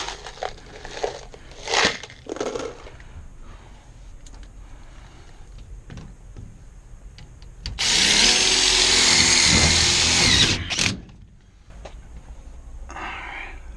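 A power drill drives self-tapping screws, about 3/4 to 1 inch long, into a sheet metal duct transition with double offset angles. One loud sustained whir-and-rattle burst stands out, preceded by brief shorter bursts and metallic handling.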